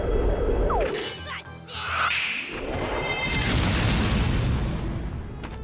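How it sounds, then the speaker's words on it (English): A spell explosion from the video game Disgaea 1 Complete: a swooshing whoosh builds into a booming, crashing blast that keeps rumbling loudly for several seconds. "I love how it's just an explosion or implosion."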